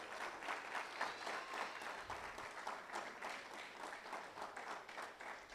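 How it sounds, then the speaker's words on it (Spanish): A church congregation at a night vigil service claps and cheers together, a dense sustained round of applause with a steady rhythm throughout. "Vamos, dale un fuerte aplauso al Señor."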